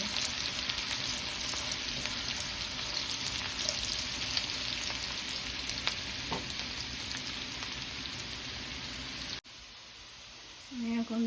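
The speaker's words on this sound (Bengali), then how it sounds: "পেঁয়াজটাকে আমি খুব ভালো করে ভেজে নেব" Onion frying in a pan gives a steady, close sizzle with faint stirring scrapes for about nine seconds before the sound cuts abruptly to quieter room tone.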